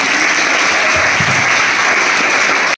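A school audience bursts into dense, loud applause after a guided meditation session, a continuous wash of many hands clapping together close by before it cuts off abruptly.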